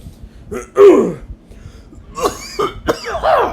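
Several harsh coughs and throat-clearing bursts in close succession, loud and near, with short pauses between them.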